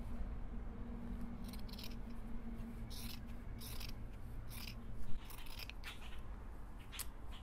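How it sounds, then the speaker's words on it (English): Scissors cutting the cuffs off a sweatshirt, with a series of faint crisp snips at irregular intervals over a quiet background hum. "I am going to cut the cuffs off"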